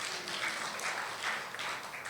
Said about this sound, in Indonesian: Tepuk tangani diri saudara.